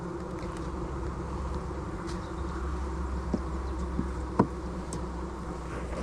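Honey bees buzzing around an open hive at a deer farm apiary, a dense steady drone close by with a few louder individual bees passing near.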